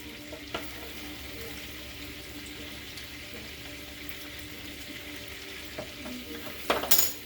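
Garlic cloves and butter sizzle in a pan for garlic pull-apart bread. A steady, fairly quiet frying hiss runs throughout, with a few brief utensil clinks near the end.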